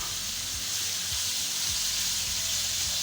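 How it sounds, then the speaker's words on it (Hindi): Chicken pieces fry with garlic and ginger in a pan over a medium flame, giving a loud, steady hiss of sizzling oil throughout, with no voices. "चिकन को हम अच्छा सा फ्राई कर लेंगे"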